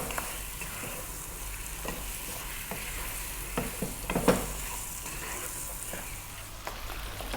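Marinated chicken stir-frying in a pan over just-above-medium heat, without added oil, giving a continuous moderate sizzle with a few sharp clanks and scrapes as it is tossed.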